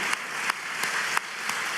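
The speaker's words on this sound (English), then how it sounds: "Y'all can clap for that one." Audience applause at an affordable housing press conference in Atlanta, a steady wash of clapping from a crowd that carries on for the full two seconds, with a few sharper hand claps standing out.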